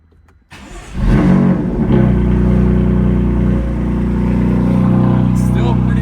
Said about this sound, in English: let's do our last cold start with the stock exhaust